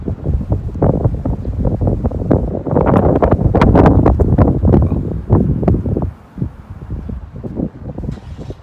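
Steady wind buffeting a microphone during a bike ride, loud and gusty, rumbling throughout and easing slightly toward the end.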